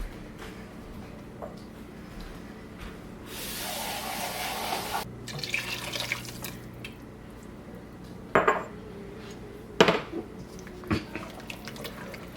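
Water runs in a short, bright pour into a pot of cowboy beans with crowder peas, set amid scattered clinks of metal pots and utensils in a quiet kitchen, with a few sharper knocks later.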